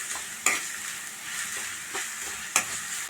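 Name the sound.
ginger garlic paste and curry leaves frying in pan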